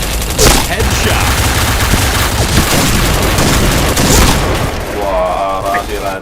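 Dense, continuous gunfire from the shooting game Point Blank, loud bursts and rapid shots running throughout with booms mixed in, a player talking over it at times.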